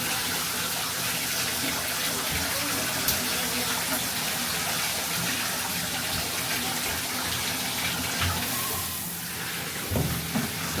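Water runs steadily from a tap or bath spout while young boys are rinsed off, a continuous loud gushing and splashing that fills the whole stretch, with a few faint knocks near the end.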